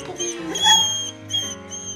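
A dog whines softly outdoors in snow, a thin high whimper rising and falling across two seconds, close by and steady with a brief louder swell midway.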